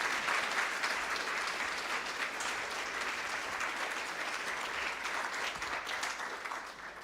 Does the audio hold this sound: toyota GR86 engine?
no